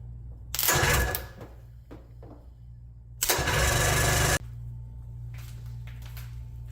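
An outboard motor with gas sprayed into it and the throttle cracked open turns over in two loud bursts of cranking, the second catching briefly before cutting off, then a steady low hum remains.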